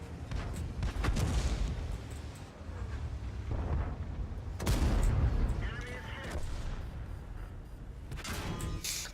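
A tank gun firing in World of Tanks, driving an IS heavy tank, with heavy booming shots and rumbling explosions over a continuous battle din, with louder blasts near the start and the middle.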